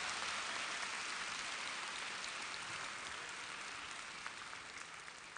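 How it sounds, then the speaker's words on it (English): An audience at the Webit Festival Europe 2019 claps in a steady, even wash of applause that tapers off gently toward the end. "give a round of applause to this person"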